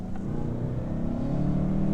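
A compact SUV, a 2019 Volvo XC40 or 2019 Mazda CX-5 Turbo, accelerating hard from inside the cabin, a steady engine drone that swells slightly as it builds, fairly quiet and with nobody talking.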